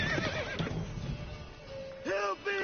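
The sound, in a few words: horse Roach neighing, from video game The Witcher 3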